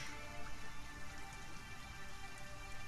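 A shower runs in the survival video game Sheltered, a soft, steady hiss of falling water spattering continuously with no pauses or voices.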